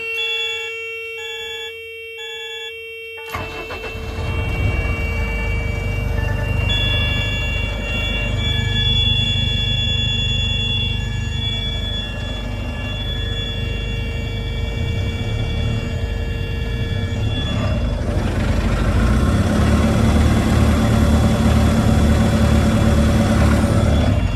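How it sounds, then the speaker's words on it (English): A DAF truck, a former mobile workshop and classroom, has its engine cranked and started after a few quiet seconds; the diesel catches and settles into a steady, loud idle with a constant low rumble and tonal hum. "it's a good point in the video to start the engine so we can get the door shut, get an idea of how it's running"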